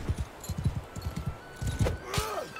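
Horse hooves clop in a quick, regular rhythm while riding in a video game, followed by a whinny-like tonal sweep, all fairly close and with no talking.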